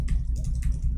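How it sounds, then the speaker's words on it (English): Rapid clicking keystrokes on a faulty computer keyboard with some keys not working, close and fairly loud, in a quick uneven rhythm over a low steady hum. "I'm typing. You see, it's not working."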